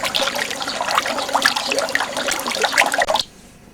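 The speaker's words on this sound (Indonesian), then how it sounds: "Suasana sejuk diiringi gemericik pancaran mata air di lereng Gunung Pangrango Bogor" Spring water gushes and splashes steadily on the cool slopes of Mount Pangrango in Bogor, a loud, dense, continuous rush that cuts off abruptly near the end.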